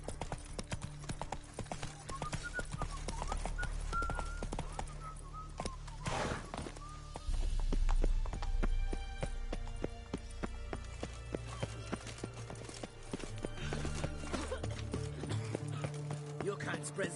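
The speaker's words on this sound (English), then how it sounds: "Whoa there, Roach. Feisty, eh?" The horse Roach gallops in The Witcher video game, with fast rhythmic clip-clop hoofbeats that come and go, mixed with game character voices talking over them.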